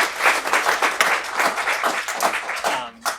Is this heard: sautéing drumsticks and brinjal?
no